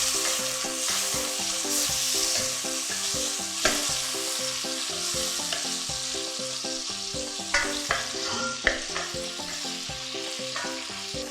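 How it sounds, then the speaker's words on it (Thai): Shrimp stir-frying in a hot pan for pad thai, a steady loud sizzle with rhythmic scraping and clanking of a spatula against the pan throughout, no voices. "แล้วก็ผัดต่อเลยค่ะ"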